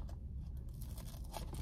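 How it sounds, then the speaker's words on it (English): Crispy, flaky crust of a KFC pot pie crunching close up, a dense crackling texture with a few sharper crackles and no talk. "listen to the crunch"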